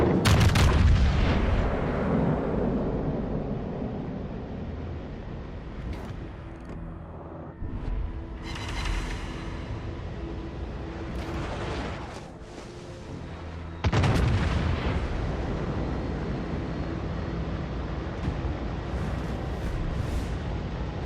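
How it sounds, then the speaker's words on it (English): Heavy booming torpedo impacts and explosions on a warship in the naval battle game World of Warships Legends, loud deep blasts at the start and again near the middle, with rumbling battle noise throughout. "Torpedoes to port. Brace for impact."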